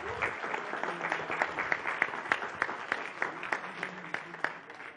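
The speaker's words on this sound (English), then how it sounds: "Another round of applause for the candidates." Audience applause for the candidates at a mayoral and deputy mayor election debate in St John's, with a dense, steady wash of many hands clapping and sharper individual claps standing out for the whole stretch.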